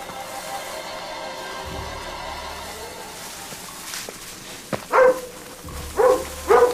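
Dog barking in the video game Lost, set in a jungle: a few sharp barks and yips come near the end, after a quiet stretch with low ambient hum.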